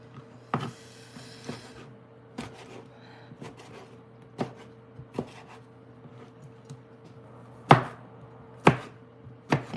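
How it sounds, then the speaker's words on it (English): A knife chops tomatoes for chilli on a cutting board, heard as about a dozen sharp thuds at irregular intervals, close and clear, over a low steady kitchen hum. "when you chop the tomatoes, it kind of squishes out"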